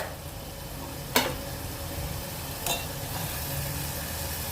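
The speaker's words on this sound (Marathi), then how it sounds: "मीठ घातलं की गरम मसाला घालायचा, हळद घालायची आणि परतून घ्यायचं।" Salt, garam masala and turmeric sizzle softly in a pan for usal, a mixed sprouted-bean curry, as a steady low hiss runs throughout with two sharp spatula taps against the pan.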